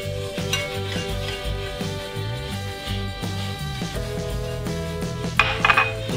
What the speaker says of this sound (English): What we're doing is forming a paste, a roux, which will help thicken our gravy.